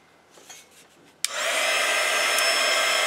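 Heat tool blowing hot air to set spray ink on a Christmas sweater scrapbook layout, kicking in abruptly after a quiet moment and then running as a steady, loud, close whoosh.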